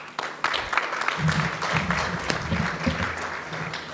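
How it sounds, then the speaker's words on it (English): Applause from a conference audience at a state community Landcare gathering, many hands clapping at moderate volume for several seconds, with a low murmur beneath it. "Let's give her a clap."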